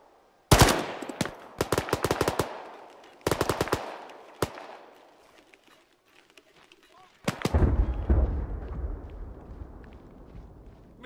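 Machine gun fire in a military combat video game comes in several loud, rapid bursts of sharp shots, separated by brief pauses, then gives way to a rumbling, sustained barrage.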